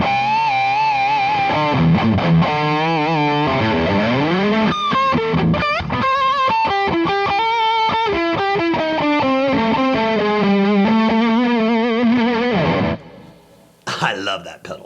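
Electric guitar through an effects pedal plays a long distorted, heavily modulated passage of bends and sliding notes with chorus-like wobble, loud and close, ending abruptly before a short burst of scratchy noise.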